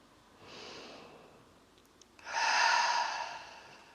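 Two deep breaths during a yin yoga practice for glutes and groin: a soft, quiet first breath, then after a pause a louder, longer breathy exhale, close and with no talking.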